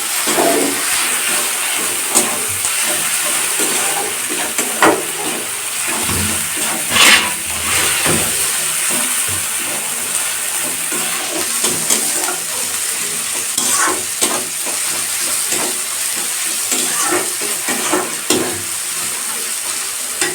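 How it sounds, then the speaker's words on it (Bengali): Turmeric and chili powder frying in hot oil for a Bengali-style lettuce sabji, giving a steady close sizzle and hiss with occasional scraping stirs, no voices. "মশলাটা খুব বেশি কষবো না, হলুদের গুঁড়ো লঙ্কার গুঁড়োটা দিয়ে দেবো।"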